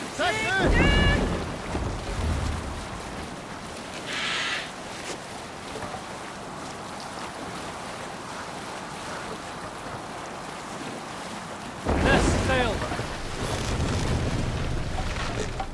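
A sailing ship on open ocean waves in Assassin's Creed Valhalla, with steady wind, rushing water and creaking hull noise throughout, swelling louder at the start and again near the end.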